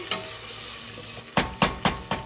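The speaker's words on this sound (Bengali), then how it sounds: "পেঁয়াজটা আরেকটু ভাজা হতে থাক" Onions sizzle steadily in a pan while being fried for a fish-head and rice dish, then four sharp stirring scrapes come in quick succession near the end, close and clear with no talking.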